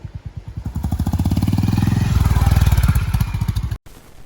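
A Honda H'ness CB350 motorcycle engine runs close by with a loud, steady, rhythmic thumping beat that builds slightly, then cuts off sharply near the end before a brief quieter rumble.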